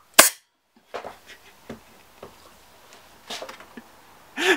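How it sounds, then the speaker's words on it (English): A metal potato gun fires with one sharp, loud pop at the start, followed by quieter scattered clicks and knocks, and another burst of noise at the very end. "Let's shoot the potato with the metal thing."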